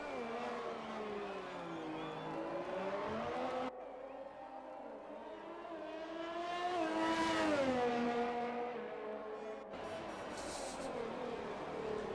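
Formula 1 race car lapping Monaco in the F1 2020 video game: a loud, continuous high-pitched engine whine that rises and falls with gear shifts and acceleration, with a sharp cut partway through and no talk.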